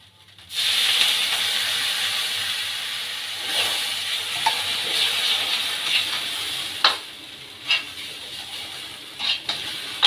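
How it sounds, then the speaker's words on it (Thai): Water poured into a hot pan during a Thai stir-fry of minced pork bursts into a loud, sustained steamy hiss and sizzle, with occasional clinks and scrapes of a utensil against the pan, close up and without speech. "ใส่น้ำนิดนึง"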